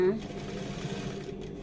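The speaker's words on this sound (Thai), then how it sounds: "ค่อยๆเย็บนะ" A sewing machine slowly stitches a trouser hem with ordinary thread instead of jeans thread, a fast, even whirring hum running throughout while someone talks over it.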